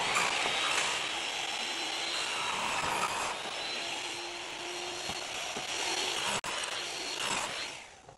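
A saw cuts through a workpiece with a continuous, fairly quiet whirring buzz that holds for several seconds, broken by one sharp tick and then tailing off.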